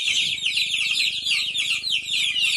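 Room full of baby poultry birds cheeping and clucking continuously, a dense high-pitched chorus of many overlapping chirps filling the space with no pauses.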